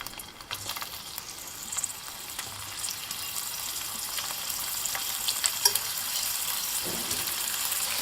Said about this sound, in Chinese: 锅中放油， 油热后放入排骨，